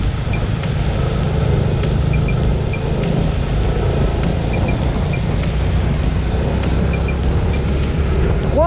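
Steady car traffic on a city street in Anápolis, a continuous wash of engine and tire rumble with wind noise, vehicles passing close by at an even level throughout, with no talking.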